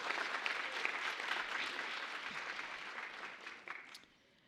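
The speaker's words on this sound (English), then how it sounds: "Another round of applause for our student" Applause from a gubernatorial forum audience for a student, a dense steady wash of clapping that carries on for several seconds, then thins out and fades near the end.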